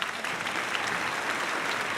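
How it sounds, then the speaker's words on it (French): Dense, steady applause from a concert audience fills the hall for the stage bearers of the Giants, a continuous wash of many hands clapping at even loudness, with no voices on top. "on les applaudit bien fort"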